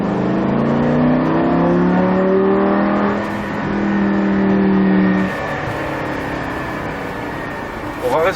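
A Lamborghini Gallardo LP-560 accelerating hard on a road, its engine note climbing loudly then settling into a steady cruise, heard from inside the car with people talking over it.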